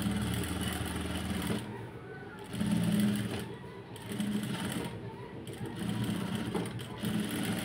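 A sewing machine stitches along fabric lining, its close, steady motorized whir rising and falling in short runs as the stitching starts and pauses.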